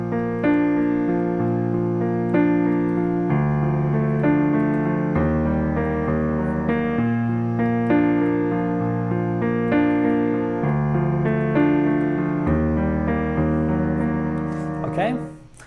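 Piano accompaniment: chords broken into rising arpeggios over low root notes, accenting beats 1 and 4, a steady repeating pattern played continuously at moderate loudness with no voices.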